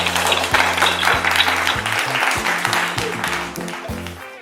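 Loud clapping from a crowd gathered at a Senco Gold jewellery store anniversary event in Moulali, a steady burst lasting several seconds with music tones underneath, fading slightly toward the end.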